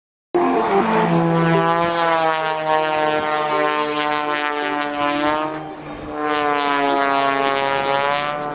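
Loud, continuous engine roar from an MX2 aerobatic aeroplane diving at high speed, a strong harmonic drone that dips briefly midway before surging again, with no talk.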